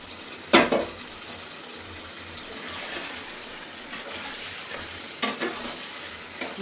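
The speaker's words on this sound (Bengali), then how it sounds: "তো মশলার মধ্যে এখন মাংসগুলো কষিয়ে দিচ্ছি" Chicken pieces with potato frying in spices in a pan, soft sizzling with a few sharp stirring scrapes near the start and again later.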